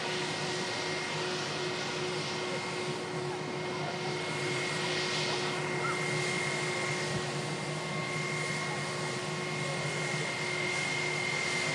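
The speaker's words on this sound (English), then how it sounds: "Jet2 757 7 Alpha Charlie now lining up with 23 rights for departure to Naples" A Jet2 Boeing 757 airliner lines up for departure at Manchester Airport, its engines giving a steady distant roar with a faint whine that holds evenly throughout, with no voices.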